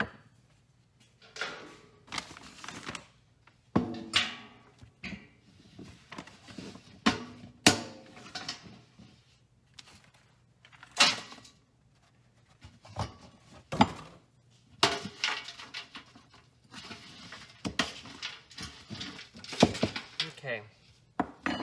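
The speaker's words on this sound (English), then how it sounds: "I'll throw this into that metal bucket so that way it's a little bit easier to mix and see." A soil mix is stirred in a metal bucket, giving irregular bursts of gritty scraping and dull metallic knocks separated by short pauses, with occasional talking.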